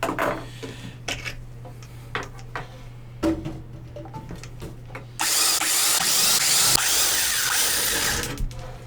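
Power drill drilling out rivets on a PC case: several short bursts of drilling and clicking, then a sustained loud whirring grind of the drill biting into metal for the final few seconds, close by.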